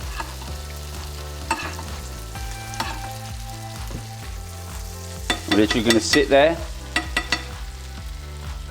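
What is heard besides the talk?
swordfish frying in butter, sizzling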